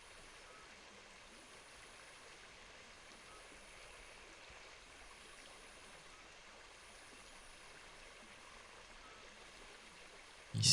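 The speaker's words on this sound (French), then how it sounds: "Une rivière verte s'écoule du nord et tourne à l'ouest ici." River water flows in a video game. It comes through as a faint, steady rushing stream that stays even throughout, with a brief louder bump at the very end.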